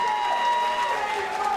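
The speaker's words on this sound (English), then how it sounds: "The crowd letting them know their appreciation." Crowd applause rings out steadily after a robot combat bout, a dense continuous patter heard under a commentator's voice.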